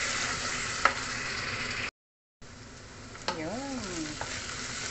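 Blended onion frying in a pan as the base for creamy chicken curry, a steady loud sizzle with occasional stirring scrapes, briefly cut silent midway; a voice speaks a short word over it.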